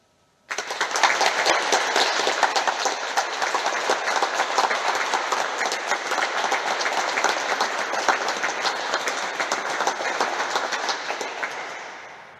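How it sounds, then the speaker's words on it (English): Sustained applause from a large audience at a university graduation ceremony for the School of Chemistry, Edinburgh, starting abruptly and holding steady and dense for about twelve seconds without speech. "So please join me now in a round of applause for all these groups."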